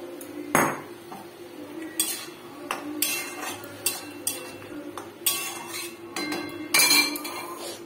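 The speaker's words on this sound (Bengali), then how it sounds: "ডুমুর আর আলুটাকে ভিজে রেখেছিলাম সেটা ঢেলে দেবো" Soaked figs and potatoes going into a cooking pan on a home stove, heard as a series of close metallic clinks, knocks and scrapes of utensils against the pan, spaced irregularly, with no talk.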